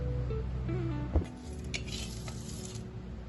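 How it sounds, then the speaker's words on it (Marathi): Cumin and mustard seeds crackle in hot oil for a dhokla tempering, a soft steady sizzle with a few light metal clinks of a spoon against the pan, fairly quiet and close. "जिरे मोहरीची अशी वरून खमंग अशी फोडणी टाकून घ्यायची आहे."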